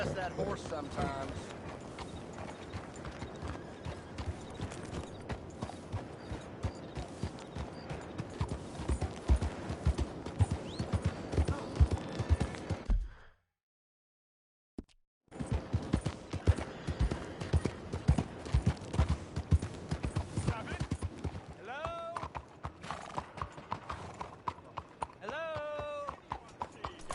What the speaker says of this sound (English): Remember to rest that horse sometimes.